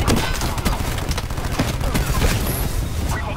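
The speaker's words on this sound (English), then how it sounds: "We're taking ground fire." Gunfire and distant thuds come from the video game Black Ops 4 during a mission under ground fire. Scattered shots and booms sound under continuous radio-style voice chatter from in-game dialogue.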